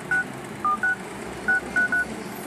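Keypad tones from a mobile phone with an MTK chip sound while an engineering mode code is dialed, six short crisp beeps in quick irregular succession, close and clear over a faint background hum.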